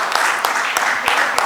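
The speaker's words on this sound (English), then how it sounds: "Please welcome Rupa ji with a big round of applause" Audience applause welcoming the session chairperson at a trade conclave panel discussion in Mumbai, a brief burst of dense, steady clapping from a crowd with some voices mixed in.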